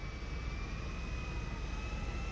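A plane's engine in the GTA 5 video game drones steadily throughout, a broad, even roar with a faint high whine on top and no talking.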